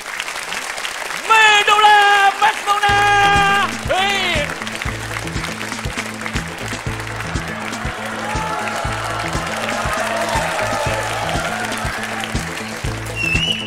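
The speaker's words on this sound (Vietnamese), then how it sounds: "xin quý vị cho một tràng pháo tay cho nữ ca sĩ" Audience applause greeting a female singer at an overseas Vietnamese comedy show, clapping mixed with a steady band beat and a voice calling out over the music.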